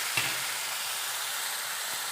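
Tomato paste frying in oil with onion and garlic in a pan, a steady close hiss and sizzle with a brief stir at the start, no voices.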